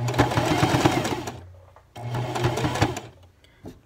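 A sewing machine stitching a sweater, running in two loud, fast, mechanical whirring bursts separated by a short pause, close by and with no talk over it.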